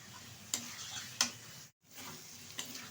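Spice paste sizzling and being stirred in a hot pan while cooking vegetarian aloo dum, a steady close frying hiss broken by a few sharp scraping strokes and a brief pause.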